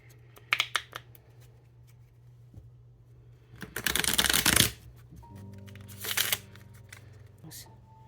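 Tarot cards being shuffled for a card draw, a few quick card flicks followed by two loud riffling bursts of the deck, close up, with a faint hum underneath.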